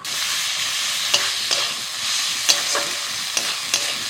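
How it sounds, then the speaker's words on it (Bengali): Ginger garlic paste frying in oil in a wok over onion, a continuous dense sizzle with occasional scraping strokes of a spatula, close and loud, no talk. "দিয়ে দিচ্ছি আদা রসুন বাটা।"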